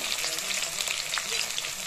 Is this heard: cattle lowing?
no